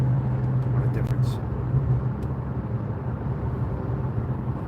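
A car with a worn front right wheel bearing drives along, giving a steady low rumbling drone with a faint hum, continuous and close throughout.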